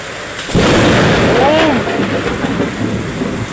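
A sudden loud crack of thunder from a lightning strike bursts in and rumbles on over steady heavy rain, with a brief voice-like cry partway through.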